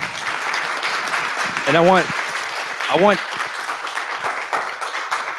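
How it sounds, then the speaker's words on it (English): Audience applause at a business pitch event after a presentation, a steady wash of crowd clapping throughout, with a voice briefly speaking over it twice. "So okay, everybody give a round of applause."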